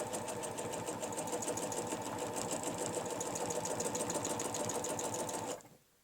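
A sewing machine stitches steadily around the channel of a quilting ruler, a fast even whirring hum with rhythmic needle clatter close by, then stopping abruptly near the end.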